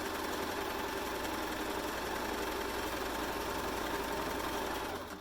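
A sewing machine runs steadily for several seconds while stitching a nursing hat, giving a continuous close mechanical whir with no pauses until it winds down at the very end.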